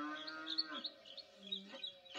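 A cow lowing in a meme: a drawn-out, harmonic moo followed by a shorter second call, fairly quiet, with no talking over it.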